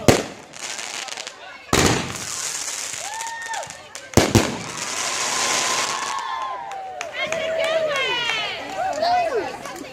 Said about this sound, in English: Short little fireworks show.